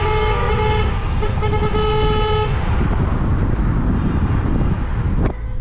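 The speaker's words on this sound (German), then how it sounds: "alle fahren dieser Limo jetzt hinterher mit Warnblinker und Hupen" Several car horns honk continuously and in overlapping tones as cars chase a limousine on a road in Romania, with steady traffic and wind rumble underneath; a final short toot comes near the end.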